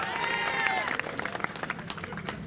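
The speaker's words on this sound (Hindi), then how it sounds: "ठोको ठोको ताली ठोको" Crowd at a political rally clapping in a dense, fast patter that follows a shouted voice, with crowd noise mixed in and the clapping staying fairly close and loud.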